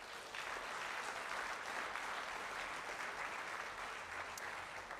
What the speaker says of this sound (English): one more round of applause for all the inductees